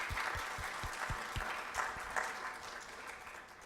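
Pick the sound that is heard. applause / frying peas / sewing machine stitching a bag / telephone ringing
applause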